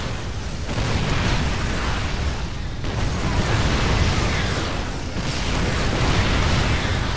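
Terran siege tanks firing in StarCraft II, heavy booming blasts layered over a continuous roar, with two sharp cuts where new barrages erupt.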